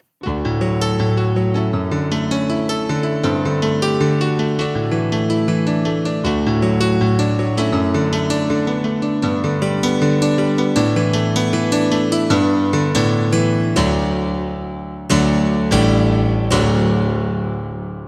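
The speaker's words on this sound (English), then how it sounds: "This is this vibe of ballad or house piano from the 90s." A 1990s digital workstation piano in the Korg M1/Triton style plays a ballad-house progression, with bright, sustained chords and a steady rhythmic pulse, loud and upfront, ending on a few accented hits.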